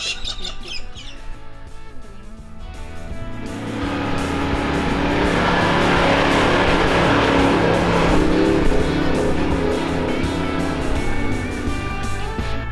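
A four-wheel-drive 79 in sandy desert dunes powers up a dune face, its engine note rising loud and steady from about four seconds after a quieter start and holding strong to the end.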